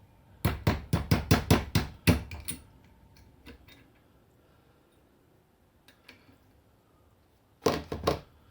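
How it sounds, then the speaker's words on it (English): A socket is hammered to drive a new metal seal into a 1988 Ford F250 power steering pump, giving a rapid run of about eight sharp metallic knocks, then a few scattered taps and a final short burst of blows. "Drive this on with a socket."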